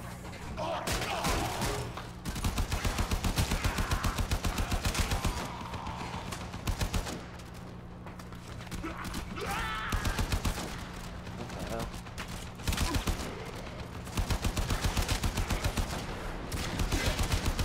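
Rapid bursts of gunfire in the video game Warframe, dense fusillades of shots stacking up close and loud across the whole stretch with brief lulls between volleys, with gameplay sound underneath.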